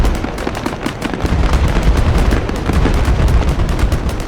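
BMP armored vehicles open fire in a war video game, a dense rapid burst of heavy automatic gunfire with booming low thuds, loud and continuous throughout.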